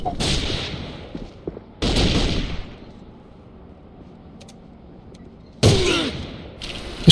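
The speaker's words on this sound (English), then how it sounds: "He shot me through the wall!" Gunfire in the AVA online shooter, heard as two sharp bursts of shots near the start, then a quiet gap and another loud burst near the end, close and loud with brief talk between.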